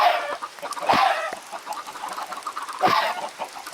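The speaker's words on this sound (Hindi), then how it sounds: "हमारे पास कुछ इतनी सारी मुर्गियां इकट्ठी हो रखी थी" Chickens clucking in the video game Minecraft, a few close, loud clucks and squawks over a steady background of game ambience, with no talking.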